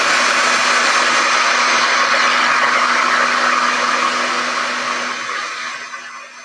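A hair dryer blows on fresh white paint, a loud steady whooshing hum held close and continuous before tapering off toward the end, with no voices.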